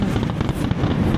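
Fireworks bursting at night over Tagaytay, a steady, dense rumble of booming explosions with sharper cracks at about 0.3 and 0.7 seconds, heard from a distance and filling the whole short moment.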